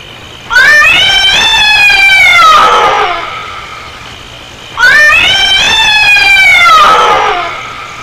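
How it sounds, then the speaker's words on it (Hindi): A cat gives two long, loud, drawn-out meows a few seconds apart, each rising and then falling away, heard alone in a film scene. "ये बिल्ली की आवाज़ है।"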